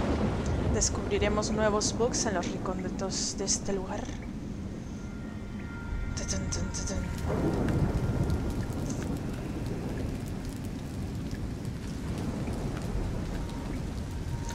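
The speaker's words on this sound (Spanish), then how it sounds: "Hay tormenta." Steady in-game rain pours from a thunderstorm in Nioh, with low rumbling thunder swelling partway through; someone speaks Spanish over the downpour at the start, then the rain and thunder continue alone.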